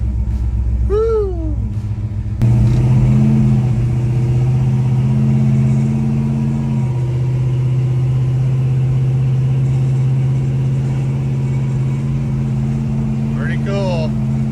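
A rare 1969 Dodge Charger R/T SE engine catches and settles into a loud, deep, steady idle rumble close by, with brief whooping voices at the start and end.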